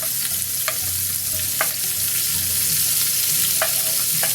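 Slivered white onion frying in a pan with salt and pepper to caramelize, a steady close sizzle with a few light stirring scrapes and clicks scattered through it.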